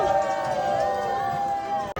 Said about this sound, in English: This is always one of my favorite parts, is all the cast members cheering